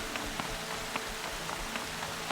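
Steady rain falling in the Horizon Zero Dawn video game, a continuous patter of drops on surfaces with no voices over it.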